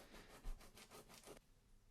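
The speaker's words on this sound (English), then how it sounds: "heavy grade sandpaper here just to get the biggest lumps off" Rapid back-and-forth rasping of heavy-grade sandpaper on a guitar's wood, about six quick strokes, close and fairly quiet, then stopping.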